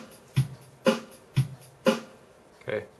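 Boss BR-600 drum machine running its pop one verse one pattern: punchy kick and snare hits alternating in a steady beat, played alone and loud.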